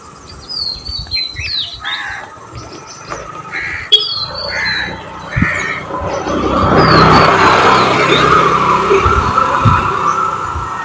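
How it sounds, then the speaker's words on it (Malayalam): Crows caw and smaller birds chirp close by in the first half, then a broad rushing noise swells and covers the calls, with a few sharp knocks along the way. "കിളികളുടെയും കാക്കകളുടെയും ശബ്ദം കേട്ടോ"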